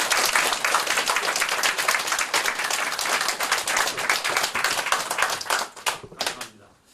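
Loud, dense applause from a lecture audience in Korea, steady and sustained for several seconds before thinning out and trailing off into a few last claps.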